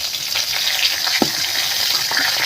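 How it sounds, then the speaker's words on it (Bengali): Crushed onion, garlic and ginger frying in a pan, a loud continuous close-up sizzle with a brief sharp knock partway through. "পেঁয়াজ থেতো করা, রসুন আদা থেতো করা দিয়ে দিল, একটু ভাজা ভাজা হবে"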